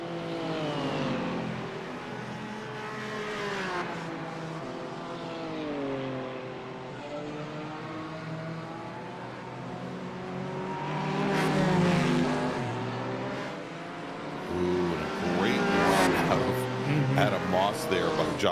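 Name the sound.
race car driving through corners, likely from a racing video game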